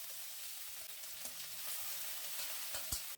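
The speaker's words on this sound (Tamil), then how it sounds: "இப்போ இந்த பச்சை மிளகாவையும் கருவேப்பிலையும் சேர்த்துக்கிறேன்" Green chillies and curry leaves fry in hot oil with a steady, close sizzle and light stirring scrapes for about three seconds, with no one talking.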